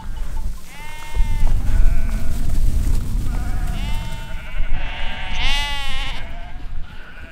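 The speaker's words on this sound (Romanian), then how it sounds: "Sunt acolo câteva turme de oi." A flock of sheep bleats repeatedly high in the Făgăraș mountains, several wavering calls overlapping near and a bit farther off, over steady wind rumble outdoors.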